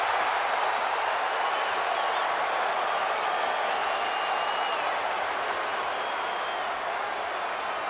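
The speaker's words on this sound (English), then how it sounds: "Listen to that crowd!" A virtual arena crowd in the WWE 2K24 wrestling game roars continuously, a dense steady wash of cheering and clapping with no break, heard on its own.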